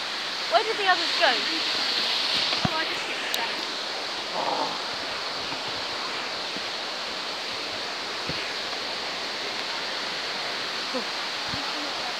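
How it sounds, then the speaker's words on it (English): A waterfall inside an indoor rainforest biome, a steady broad rush of falling water that runs unbroken and fairly loud for the whole stretch, with brief voices near the start. "Look at that rainfall. Waterfall."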